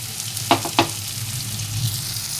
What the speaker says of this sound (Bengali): টমেটোটা হালকা ভাজা হয়ে গেলে ওর মধ্যে বেটে রাখা মশলাটা দিয়ে দেবো